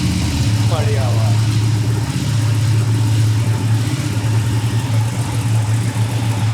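A Ducati Panigale V-twin superbike engine idles with a deep, steady throbbing rumble close by, joined early by a brief whistling squeak, loud and continuous throughout.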